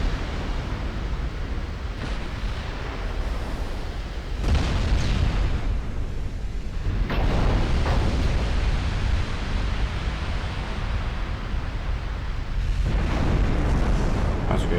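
Shell hits and explosions rock a warship in a naval battle video game, with a sustained roar of booming impacts and noisy rumble, several heavier bursts standing out sharply against the constant din.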